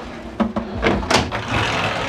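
A sliding cabinet door in a cruise ship cabin gives a few short, close knocks and glides over about two seconds, with quiet room tone and no speech.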